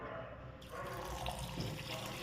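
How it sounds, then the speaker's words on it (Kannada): Water runs from a tap into a vessel holding soaked rice and green gram, a soft steady gush that starts after a brief pause and stays faint and close. "ಇದಕ್ಕೆ ಮತ್ತೆ ಈಗ ಒಳ್ಳೆ ನೀರು ಹಾಕಿಬಿಟ್ಟು"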